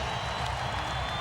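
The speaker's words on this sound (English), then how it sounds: "The crowd loving it." Basketball arena crowd at a 2005 New Orleans Hornets versus Portland Trail Blazers game, a steady dense wash of cheering and applause filling the hall without a break, with faint commentary mixed in.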